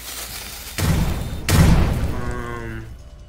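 Two booming blasts from an explosion in a Roblox game, the second louder, each with a dense low-end thump trailing into a fading rumble.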